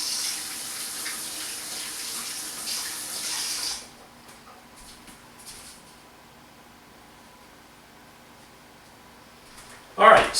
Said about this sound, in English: All right, so let me rinse my hand off here.